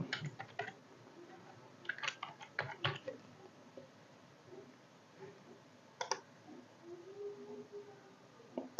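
Fingers type a password on a computer keyboard, a faint scatter of close, sharp key clicks in short bursts with pauses between them, in a quiet room.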